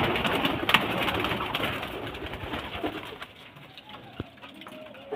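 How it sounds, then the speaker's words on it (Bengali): Female pigeons let loose from a fancier's flock coo in soft, low bursts, with wingbeats and faint voices nearby; the cooing is fuller at first, then thins to a quieter scattering toward the end. "এগুলো সব মাদি পায়রা"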